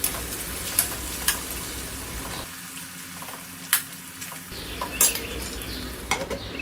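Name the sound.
stirring parval vegetable curry with a spoon in a pan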